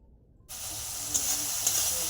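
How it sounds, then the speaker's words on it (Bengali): Onion and tomato with white cumin hit hot oil in a wok, bursting into a sudden loud sizzle after a near-silent start, then a steady close frying hiss with a couple of brief crackles. "এবার কড়ার মধ্যে সাদা জিরে দিয়ে পেঁয়াজ টমেটোটা একটু ভাজা ভাজা করে নিচ্ছি"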